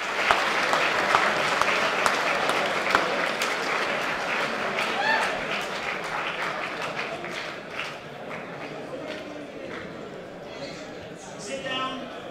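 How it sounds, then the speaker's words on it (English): A large university audience applauds guest Dave Rubin with a dense, sustained wash of clapping that stays steady and then eases slightly toward the end, with voices talking over it. "Give Dave Rubin a huge round of applause"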